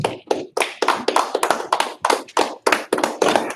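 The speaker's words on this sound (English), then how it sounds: "Clap it up, yeah" Rhythmic hand clapping from a small group joins in after a call to clap it up, about a dozen sharp, loud claps in a steady beat, close by and with no talk over them.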